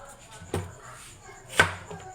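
Onion being chopped with a knife on a board, two sharp distinct chops about a second apart with a third just starting at the end, fairly close, over a quiet background.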